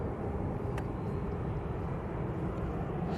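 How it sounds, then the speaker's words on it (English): Distant Jet2 Airbus A321neo departing Manchester Airport, a steady broad low roar of jet engines filling the whole stretch without clear rise or fall. "Next out should be the Jet2 A321neo."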